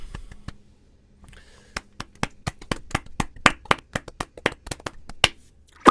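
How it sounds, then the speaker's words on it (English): Hands clap in a quick rhythmic run, a few scattered claps first and then a fast, steady burst of roughly twenty loud, close claps building to a final strong one, with no talking. "Should we clap it in?"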